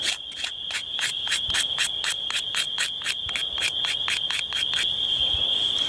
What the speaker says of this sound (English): Now I scrape from the top of the plant downward